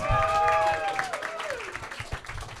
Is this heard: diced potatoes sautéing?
no